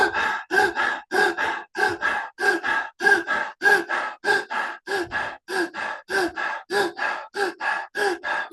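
Rapid rhythmic deep breathing in a guided breathwork exercise, about twenty quick, forceful breaths in steady succession, each a loud audible inhale and exhale, close and clear with no talking.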